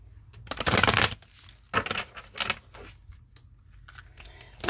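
An Enchanted Love Tarot deck is shuffled close up in several bursts of riffling and sliding card noise, broken by short pauses, with no talking.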